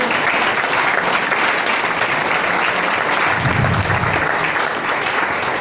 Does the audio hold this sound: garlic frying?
no